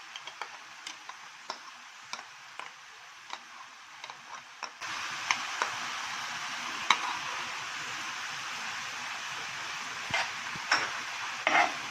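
Tandoori pasta with tomato ketchup paste and spices cooking in a pan over medium heat, a steady close sizzle with scattered ticks of stirring, growing louder partway through.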